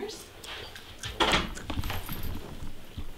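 A hotel room door in Vienna opens with a sharp clack and rattle near the middle, followed by rustling and shuffling against a low room background.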